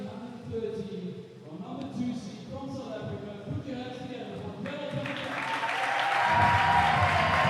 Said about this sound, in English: Big applause for the South African.